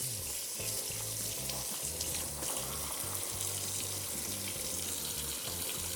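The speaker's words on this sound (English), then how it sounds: "I'm just gonna drain out the extra water and give it a rinse" Running water from a tap rinses and drains a block of extra firm tofu in a kitchen sink for a tofu scramble, a steady close splashing hiss with no talking.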